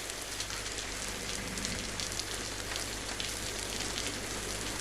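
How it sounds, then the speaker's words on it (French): Rain in the video game DayZ: a steady, dense hiss of falling rain with a low constant hum beneath, unbroken and even throughout, with no talk. "Dans tous les cas, là il pleut."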